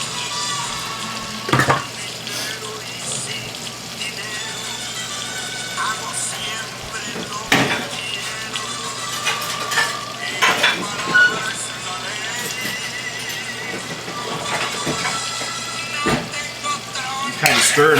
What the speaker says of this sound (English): Kind of stir it up a little bit.